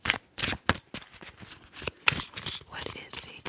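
Tarot cards being shuffled in a quiet ASMR setting, a run of close, crisp riffling bursts and soft card slaps with short pauses between.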